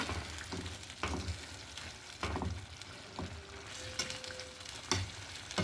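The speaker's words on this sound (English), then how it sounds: "just let that simmer for about 3 to 4 minutes" BBQ chicken simmering in sauce in a pan over low heat, a steady soft bubbling sizzle with a few louder stirring clunks and spoon scrapes through the clip.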